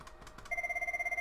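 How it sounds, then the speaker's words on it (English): A Cisco IP desk phone rings from an internal call, a steady electronic warbling tone that pulses rapidly after a few soft clicks of handling, close and clear in a quiet room. "I'm going to try and call one phone from another."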